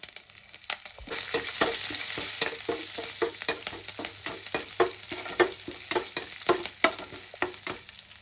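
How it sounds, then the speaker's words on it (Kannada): Curry leaves and spices crackle in about half a ladle of hot oil for a tempering poured over brinjal chutney, with a steady close sizzle punctuated by rapid sharp pops and spatters, no voices. "ಕರಿಬೇವು ಹಾಕ್ತಾ ಇದ್ದೀನಿ"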